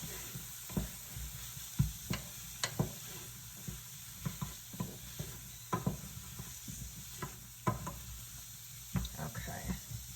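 Soup ingredients, carrots and spices, sizzle quietly in a pot while a utensil stirs and knocks against it in irregular clacks over a soft frying hiss.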